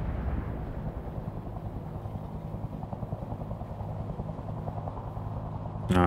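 Helicopter in the PC tank game Gunner, Heat, PC!, a steady low rotor and engine drone filling the scene amid battle rumble, with a sharp loud burst at the very end.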